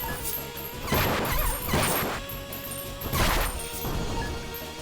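A pet in the video game Ruin of the Reckless smashes level-up orbs, setting off three loud crunching bursts spaced about a second apart over steady background game music.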